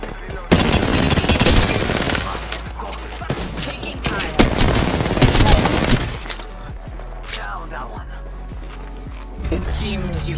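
Loud, dense gunfire from an Android shooter game, with rapid automatic bursts, explosive hits and shattering effects under a continuous low rumble, while a voice talks over the action.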